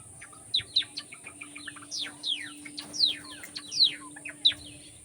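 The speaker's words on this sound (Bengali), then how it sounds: "জাবাগুলো কি সুন্দর ডাকছে" Java sparrows call in a series of short, bright chirps and twittering notes, several birds at once, near and clear over a quiet background with a faint steady tone.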